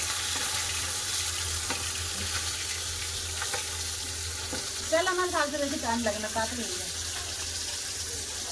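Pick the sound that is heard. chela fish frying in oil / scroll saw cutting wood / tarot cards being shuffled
chela fish frying in oil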